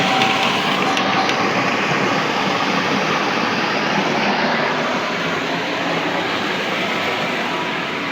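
A submersible water pump lifting water through a pipe toward an upper-floor tank, giving a steady, loud broadband rush and hum that holds unbroken for the whole stretch with no talk.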